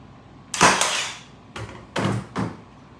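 A Milwaukee battery-powered brad nailer fires into wood, one sharp loud crack followed by a few quicker clacks and mechanical thumps, close and alone without talking.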